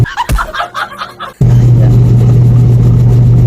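A washing machine spinning fast after its weak spin was repaired, a loud steady motor hum and whir that kicks in abruptly after some clattering handling sounds, then holds constant.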